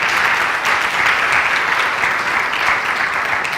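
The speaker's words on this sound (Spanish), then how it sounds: "¿Cuánto le dan un aplauso al Rey esta tarde?" Congregation applauding during a church service, a steady dense wash of clapping from many hands that holds loud and continuous throughout without pauses.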